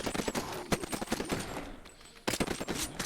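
Rapid automatic fire from the Alternator submachine gun in Titanfall VR: quick, close bursts of sharp shots in a steady stutter, a brief lull, then another loud burst.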